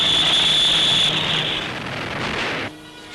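A Spitfire fighter aircraft in flight gives a loud, sustained engine roar with a steady whine that fades and drops off abruptly near the end, with no talking.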